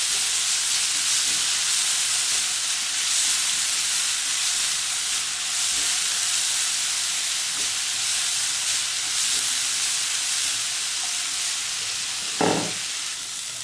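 Sliced onion, garlic and green chilies fry in oil for chicken cutlets, making a continuous close sizzle and hiss with faint occasional stirring clicks and one brief sharper scrape near the end.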